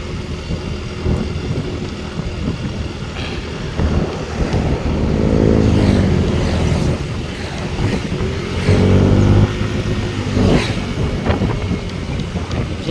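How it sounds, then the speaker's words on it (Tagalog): A motorcycle engine revs in two rising bursts over a rough idle and wind buffeting on the microphone. Each surge swells and then falls back, heard close with no talking. "start lang ang motor eh"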